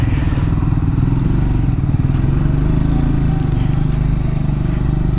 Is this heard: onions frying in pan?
no